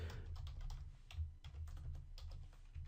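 Computer keyboard typing jQuery code, quiet rapid clicking keystrokes in uneven bursts close to the microphone.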